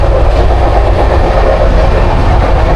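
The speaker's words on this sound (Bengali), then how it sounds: "ট্রেন বিশাল গতিতেই ছুটে চলেছে" The Tamralipta Express (12857) runs at high speed, filling the clip with a loud, close, continuous rumble and rattle of wheels on the tracks and the rocking carriage.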